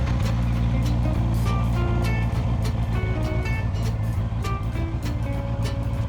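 A Honda CB650R E-Clutch motorcycle engine runs at a steady, close idle with a low, even drone throughout and no voices.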